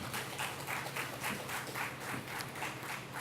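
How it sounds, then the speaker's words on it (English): Audience applause at a housing distribution ceremony at Carina Gardens, Arima: a crowd's steady rippling clapping, moderately faint and sustained, with a slight swell and fade. "So give yourself a wonderful applause."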